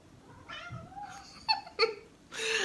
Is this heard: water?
no